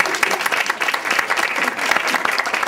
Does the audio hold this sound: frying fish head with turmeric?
no